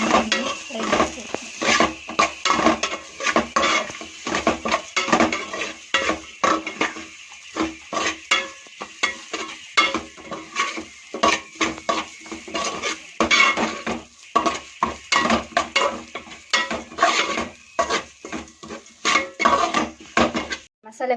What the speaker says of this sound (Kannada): ಒಗ್ಗರಣೆ ಫ್ರೈ ಮಾಡಬೇಕು